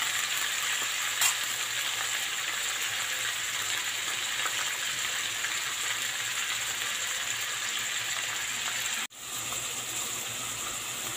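Chicken liver and other toppings for pancit sautéing in a pan, a steady close sizzle running unbroken for about nine seconds before a brief cut, then resuming.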